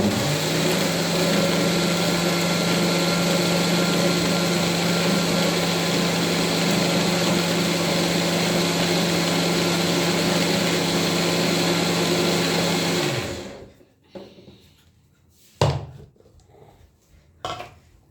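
A kitchen mixer grinder grinds batter in a village kitchen with a loud, steady motor drone and rattle for about thirteen seconds, then switches off, leaving near silence with a couple of faint knocks.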